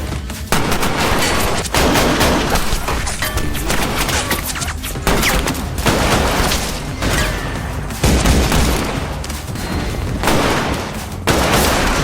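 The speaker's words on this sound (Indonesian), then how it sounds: "hingga adu tembak pun tak terhindarkan lagi" A film gunfight plays out as rapid bursts of overlapping gunshots and heavy booms in dense, loud volleys with brief gaps, with no talking.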